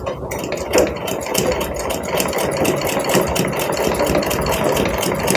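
A sewing machine stitches a baby dress with a steady, rapid mechanical whir and rhythmic needle clatter, running continuously and close by.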